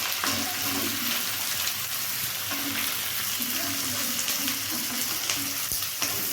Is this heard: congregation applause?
no